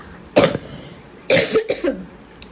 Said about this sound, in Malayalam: അപ്പോൾ ചുമയാണ്